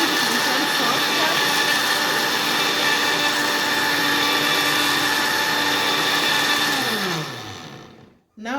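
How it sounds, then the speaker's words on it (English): An electric blender runs continuously, blending peppers for chilli sauce with a loud steady whirring motor that holds for about seven seconds, then winds down and stops. "Now we are blending our tea pepper."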